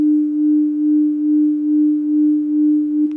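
A Yaesu FTdx10 transceiver with a misadjusted reference oscillator puts out a steady single tone whose loudness swells and dips in a slow, regular wobble, about six beats in three seconds, with no voices over it.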